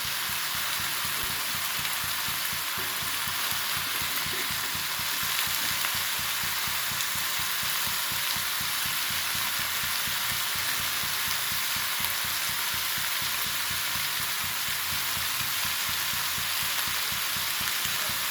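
Small mola fish sizzle steadily in a well-heated karai, a continuous crackling hiss of frying oil with no talking.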